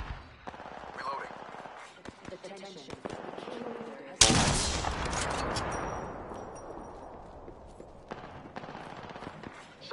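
Video game gunfire crackles in bursts, with a loud close blast midway that decays slowly, then scattered shots; a game voice speaks at times.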